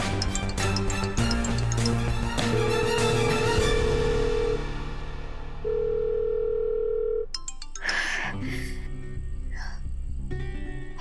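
A telephone ringback tone sounds twice during an outgoing call, steady pulsed beeps over a louder musical background.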